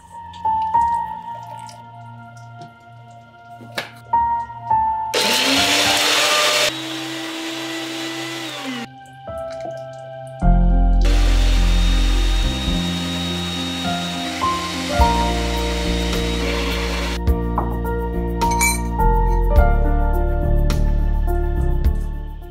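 An electric mixer grinder blending cooled roasted masala into a fine paste; a loud, steady motor whir runs in several long stretches, broken by pauses filled with quiet clinks and drips.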